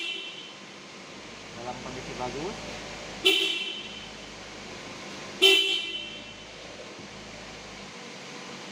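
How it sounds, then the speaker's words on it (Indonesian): Car horn tested during a routine vehicle inspection, two short loud honks a couple of seconds apart over a quiet idle, with a voice speaking before them. "klakson"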